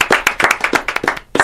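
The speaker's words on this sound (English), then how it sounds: "Let's give them a round of applause." Applause from an audience for a rock band that won at the Lexington Music Awards, heard as a short burst of close, uneven hand claps with no talking.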